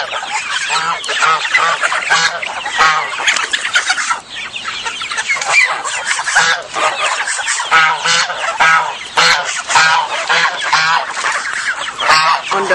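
Backyard poultry, including geese and chickens with Brahma-type and buckeye birds, squabble loudly with continuous close honking and clucking that overlaps throughout.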